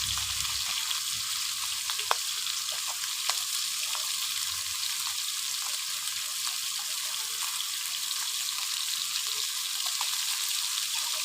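Fish fries in a pan on a home stove for a bottle-gourd-leaf fish curry, making a continuous even hiss with faint scattered crackles throughout.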